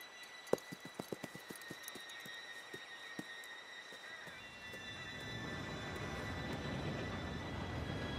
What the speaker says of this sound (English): Train should be here in a minute now.